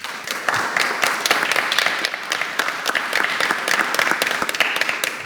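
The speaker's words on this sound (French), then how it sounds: "Applaudissements mérités et très spontanés parmi le public" A crowd at a civic event in Angoulême applauds their mayor, Xavier Bonnefond, with loud, dense, sustained clapping that holds steady throughout and carries no speech over it.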